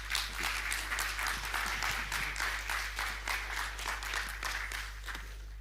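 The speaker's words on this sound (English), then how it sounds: "please give a round of applause for Langers here." Sustained audience applause fills a conference hall after a staking talk, dense steady clapping from many hands with a constant low hum underneath.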